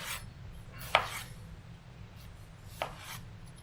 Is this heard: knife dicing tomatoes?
yes